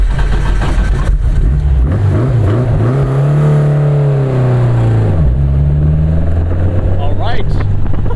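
Porsche 550 Spyder engine revving and straining while limping home in second gear, the pitch rising and falling in sustained pulls close up, with a voice talking over it.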